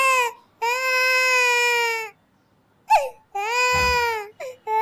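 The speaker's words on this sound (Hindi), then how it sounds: "तुझे बहन के रोने की आवाज नहीं आ रही?" An infant cries in long, loud wailing bursts with pauses between them, close by and heard alone.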